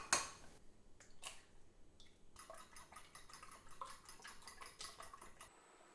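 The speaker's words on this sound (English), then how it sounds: "Next, you need to beat 4 large eggs." Four large eggs being beaten in a bowl, a quiet run of rapid, irregular whisking taps and light clinks against the bowl's side, close and soft, with no one speaking.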